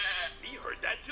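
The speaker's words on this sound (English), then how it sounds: "So what's next? The sheep?" A single sheep bleats in a short, wavering cry, close and clear but fairly quiet.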